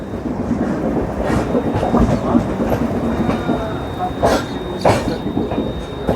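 Vikramshila Express rolling past at close range, a loud steady rumble of wheels on rails with scattered clatter and a few sharper knocks, running the whole time without pause.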